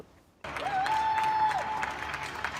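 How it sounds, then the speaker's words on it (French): A sudden burst of applause and scattered cheering from people at windows rises from the silence of empty streets and carries on steadily, sounding spread out across a wide open space. "des applaudissements viennent rompre le silence des rues dépeuplées"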